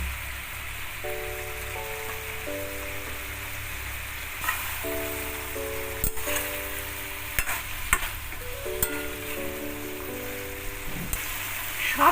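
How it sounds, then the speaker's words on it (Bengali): Drumstick, potato and bitter gourd curry sizzles and bubbles steadily in a pan, with a few sharp stirring clicks scattered through and soft background music underneath. "এর মধ্যে আমি নুন দিয়ে ভেজে রাখা করলাগুলো দিয়ে দিলাম"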